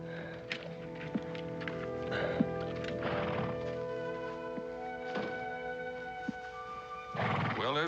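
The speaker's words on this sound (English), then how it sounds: "Ormond, your horse is here." A horse at a frontier-era scene neighs and whinnies several times, with scattered hoof clops and thumps between the calls, moderately close and without speech.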